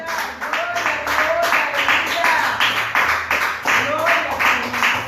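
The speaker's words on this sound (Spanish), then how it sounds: "denle un aplauso" Church congregation applauding during a Spanish-language sermon, dense steady clapping throughout with voices and cheering mixed in, moderately loud and fairly close.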